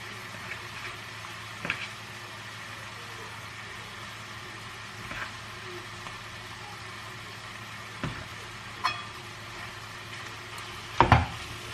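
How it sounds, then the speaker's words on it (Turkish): About 200 g of ground meat fries in a pan with a soft, steady sizzle, broken by a few sharp clicks and scrapes of a utensil against the pan, with no one talking. "İyice kavuracağım."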